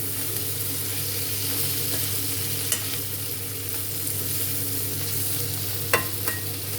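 Potato, ivy gourd and tomato curry stirred in a pan, a steady soft sizzle with occasional clinks of the spoon against the metal, close and continuous with no talking.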